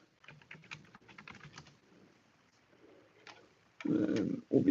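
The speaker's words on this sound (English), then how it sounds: "I'm going to type in my password." Password typed on a computer keyboard: quick bursts of light key clicks in an irregular rhythm, a pause, then a couple of heavier, louder key presses near the end.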